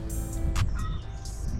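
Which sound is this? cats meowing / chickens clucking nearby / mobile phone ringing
chickens clucking nearby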